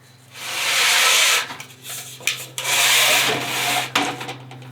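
Scaffolding is extended beneath an upper deck, making long grinding, rubbing slides in two main bursts with short scrapes and knocks between them, close and fairly loud with a low steady hum underneath.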